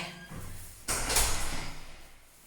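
A door sliding open, heard as a single loud scraping rush close by that fades out over about a second.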